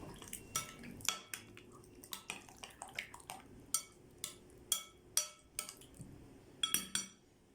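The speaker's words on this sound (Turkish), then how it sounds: "salatalık turşusunu da doğradıktan sonra şöyle bir karıştıralım" Utensils clink and scrape against a bowl in irregular bursts as pasta salad with chopped pickles is stirred and tossed, with no talking.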